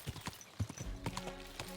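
A horse trots in Kingdom Come Deliverance 2, its hooves giving quick, fairly close clip-clops in an uneven rhythm over a brief stretch, with a faint whinny-like tone near the end.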